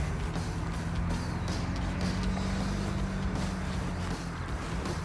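A 2021 Ford Bronco creeping downhill off-road on a roughly 23-degree slope, with a steady low engine drone and rumbling tires over rocky ground heard up close.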